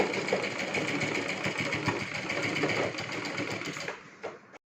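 A sewing machine runs steadily while stitching a child's lehenga, a close, continuous rapid whirring hum that slows and stops near the end.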